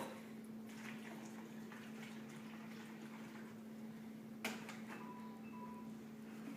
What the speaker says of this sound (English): We're going to fill the whole jug up with water. I'm going to use the funnel.